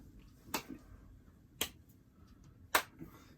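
Three sparse, sharp hand claps spaced about a second apart, hesitant and uneven, fairly close and moderately loud against a quiet room.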